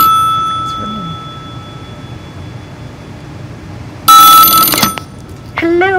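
An incoming call-in line rings on a live electronics engineering show, two short loud electronic telephone rings separated by a quiet pause, standing clear above a faint background hum.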